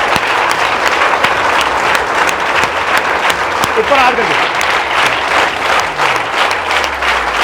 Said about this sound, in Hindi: दोनों भैया के लिए जोरदार ताली